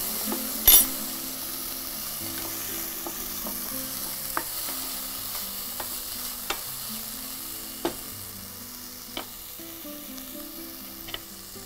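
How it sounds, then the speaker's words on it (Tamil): Shallots, carrot, beans and potato frying in melted butter give a soft continuous sizzle, broken by an occasional sharp clink of a spoon against the pan, with no voices. "வெண்ணெய் சூடானவுடனே சின்ன வெங்காயம், கேரட், பீன்ஸ், உருளைக்கிழங்கு சேர்த்துருக்கோம்"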